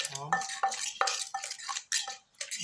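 Papaya salad pounded in a mortar for someone on kidney dialysis, made without MSG: a series of sharp knocking thuds and clinks, roughly three or four per second, close and moderately loud, with no talking.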